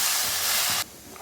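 Vegetables sauté in hot ghee for sambar rice, a loud, even steamy hiss close by that cuts off abruptly near the end, leaving quiet room tone.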